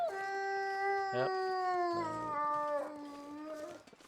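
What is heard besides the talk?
wolf howling in video game The Long Dark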